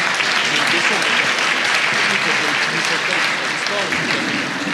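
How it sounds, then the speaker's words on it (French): An audience at an afternoon wind-energy forum panel breaks into sustained, loud applause: dense, even clapping from a full room, steady throughout. "je vais vous demander d'applaudir le panel présent cet après-midi"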